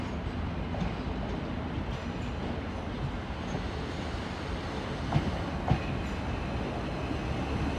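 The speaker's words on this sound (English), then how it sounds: "Approaching platform 4B, or no, 4A, is the 1328 Northern train service from Huddersfield." A Northern train rolls in toward platform 4A at Sheffield station, a continuous close rumble of wheels on rail with a couple of sharp clacks near the end.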